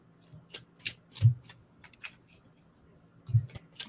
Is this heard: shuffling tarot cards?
yes